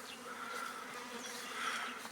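A dense, steady buzzing of many Carpathian honeybees swarming close by from an overcrowded hive, humming continuously without pause.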